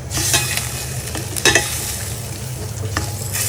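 Ginger, garlic and ground coriander, cumin, turmeric and chilli powder fry in a pan, a close sizzle broken by several sharp stirring scrapes of a spoon against the pan.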